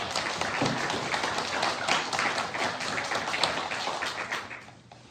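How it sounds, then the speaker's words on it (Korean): Congregation applauding inside a church during a Christmas sermon, a dense, steady round of clapping lasting several seconds before tapering off at the end. "하나님께 영광의 박수를 드립니다"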